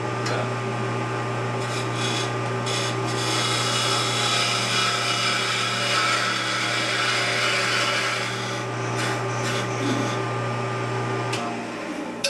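A steep bevel-edged cutting tool bites aggressively into wood on a lathe-like setup, making a steady, loud grinding rasp that runs continuously over a constant motor hum, with brief scraping bursts and no talk.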